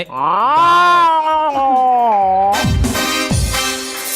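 A person imitates a cat meowing with a long, drawn-out wailing yowl that rises and falls, loud and close, followed by bursts of laughter and noisy breath.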